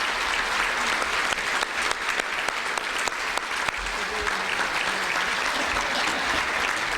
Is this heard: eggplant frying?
no